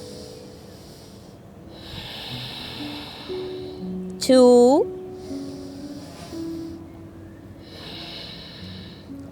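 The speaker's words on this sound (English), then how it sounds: "Remember the Ujjayi breathing. Maintain that. Breathing with sound." Ujjayi breathing during a yoga plank sequence: slow, audible breaths with a soft ocean-like hiss, rising and falling in long repeated cycles while a voice counts.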